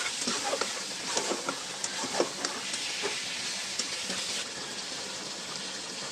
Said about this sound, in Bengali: তো এভাবেই আমি কষিয়ে কষিয়ে সুন্দর করে রান্না করে নিব।